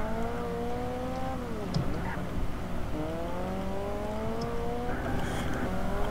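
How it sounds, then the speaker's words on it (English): A modded car engine in the MSRP racing video game drones with a steady, strongly tonal note. The pitch climbs and dips as the throttle changes, playing alone without any voices. "I got the sound mod for this car."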